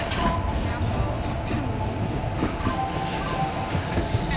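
Gatimaan Express at an Indian railway station platform, a steady rumble of train and rail noise filling the space, with a public address announcement voice running over it.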